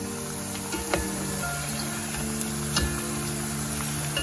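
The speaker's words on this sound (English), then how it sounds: "Keep frying them till you get this brown, light golden brown color on the other side." Onion fritters frying in hot oil give a steady close crackling sizzle with small pops, continuing evenly without talk.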